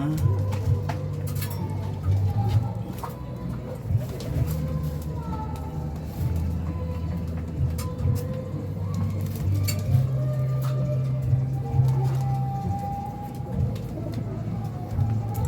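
Several pigeons coo in low, repeated throaty phrases close by on a rooftop deck during feeding, with occasional clinks and faint background noise.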